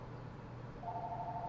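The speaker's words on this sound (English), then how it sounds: "This phone just rings and rings and rings for no reason." A phone rings indoors with a faint, steady electronic tone starting partway through, quiet under a low background hum with no talking.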